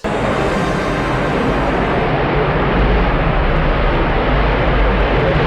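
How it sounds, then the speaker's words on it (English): A hovering aircraft in the 1987 James Bond film The Living Daylights gives a loud, steady, broadband roar with a deep low rumble that holds unbroken throughout and swells slightly in the second half, with no voices. "That's a sick plane. It can just like hover up basically."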